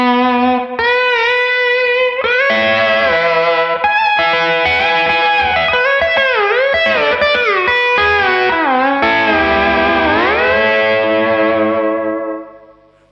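A pedal steel guitar plays through an amplifier with the bass turned down, sustained sliding notes and chords ringing out loud and clear with a driven, slightly distorted tone before fading at the end.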